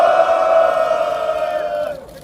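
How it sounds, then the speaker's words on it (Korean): At a Korean political rally, a crowd lets out one loud, sustained shout of many voices, holding for nearly two seconds before breaking off and fading. "비상행동 선포식을 큰 함성으로"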